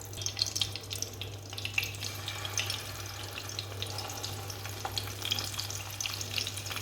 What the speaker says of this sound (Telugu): ఆయిల్ అయితే హీట్ ఎక్కింది. ముందుగా మనం సిద్ధం చేసుకున్న వంకాయలన్నీ ఇందులో వేసిన